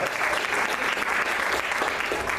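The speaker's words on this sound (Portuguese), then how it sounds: "eu te convido a aplaudir ao Senhor nesta noite" Church congregation applauding during an evening service, a loud, dense and steady wash of clapping throughout.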